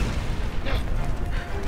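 A grenade explodes in the Resident Evil 6 video game, a single muffled boom in the middle of a rumbling battle soundscape.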